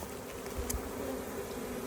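Dense, steady buzzing of many honeybees clustered around a hive, a continuous close drone with a few individual bees flying past nearer the ear; no voices.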